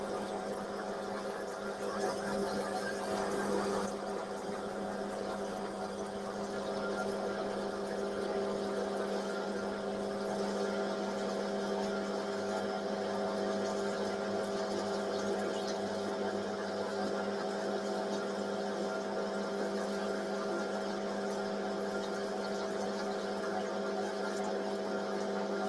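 Steel being parted off on a metal lathe turning at about 300 RPM, with coolant running: a continuous, even mechanical hum with steady tonal drones, heard close and without talking.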